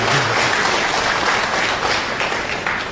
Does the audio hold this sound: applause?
yes